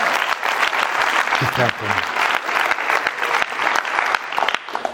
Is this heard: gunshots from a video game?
no